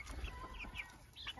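Chickens in a backyard flock with young roosters, clucking in soft, irregular calls close by, several short bursts over quiet farmyard background, no talking.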